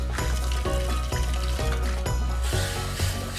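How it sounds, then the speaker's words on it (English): Gravy sizzles steadily in a pot after water is added, a close, moderately quiet crackle with a faint rhythmic stirring or clanking beneath it and no talk. "I love the sound of sizzle."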